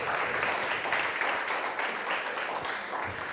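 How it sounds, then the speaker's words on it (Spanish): A church congregation claps together in a Spanish-language worship service, a steady, moderately quiet patter of many hands that continues without a break. "Dale una ofrenda de palmas al Rey."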